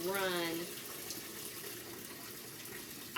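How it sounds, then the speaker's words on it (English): Water running from a tap into a washing machine tub before clothes are added, a steady close rushing gush with a brief rising tone at the start. "the water's running, so I know this is loud, but I start my water first before I put any clothes in"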